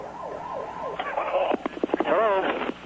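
A volunteer ambulance siren wails in a fast sweeping yelp that shifts into warbling tones, fairly close, with bursts of radio chatter and voices cutting over it.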